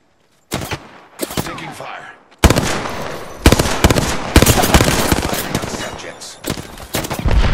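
Rapid bursts of automatic gunfire in Apex Legends, a battle royale shooter, crackle in loud, dense volleys with short gaps, mixed with sharp impacts and game effects over several seconds.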